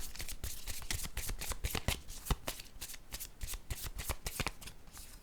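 Tarot cards being shuffled close up, a steady run of quick riffling flicks and soft slaps with no talking.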